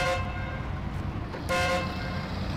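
A loud, sustained truck horn in the video game SnowRunner blares twice, the second blast following a short break, over a steady engine rumble.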